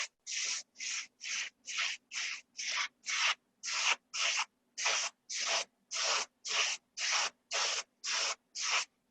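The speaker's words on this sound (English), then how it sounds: "I'm getting mostly the spray on where it's headed, and just a minor overspray on the pot itself" A spray gun fires glaze onto a ceramic pot in about eighteen short, even hissing bursts with brief gaps between them, steady and close, with no talking.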